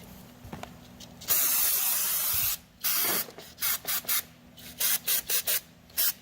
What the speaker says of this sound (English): give them a good dousing of some carb cleaner